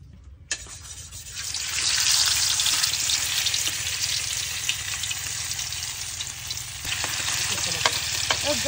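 Tofu frying in a pan with added fat, a close, steady bright sizzle that swells after a sharp start and holds evenly, with occasional spatula taps.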